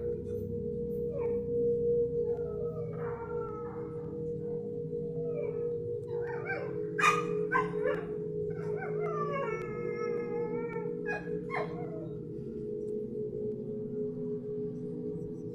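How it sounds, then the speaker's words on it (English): A small female dog outdoors in a dark yard at night, early morning, gives repeated yelping, howl-like cries and barks, moderately distant, over a steady low background hum with no talk. "mi perrita no paraba de ladrar cuando salí"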